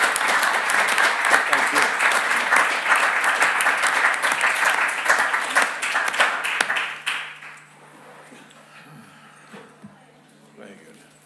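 An audience applauds panellists after an architecture talk, a dense sustained round of clapping for about seven seconds that then fades away, with a few words of thanks spoken over it.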